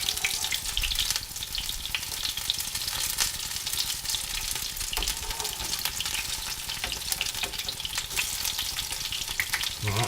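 Sweetcorn fritters frying in a pan, a dense, loud, continuous sizzle close by that holds steady throughout with small crackles and no talk.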